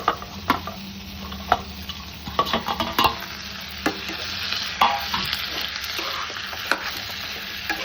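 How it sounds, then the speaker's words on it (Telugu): Deep-fried chicken pieces get tossed with masala in a hot pan, a steady sizzle broken by repeated clacks and scrapes of a spatula against the metal, close and continuous with no talking. "ఇప్పుడు ఈ పీసెస్కి ఈ మసాలా పట్టిద్దాం."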